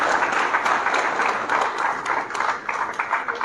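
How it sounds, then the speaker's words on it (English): An audience applauds a top student being felicitated at an academy's SYNAPSE 2025 event, with steady dense clapping throughout at moderate loudness. "Come on, give a big round of applause."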